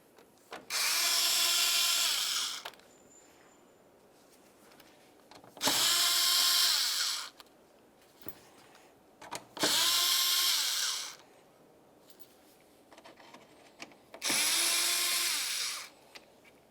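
A power driver removes T25 mounting screws from the grille of a 2011-2018 Volkswagen Jetta, with four separate whirring bursts of about two seconds each, close and clear, separated by quiet gaps.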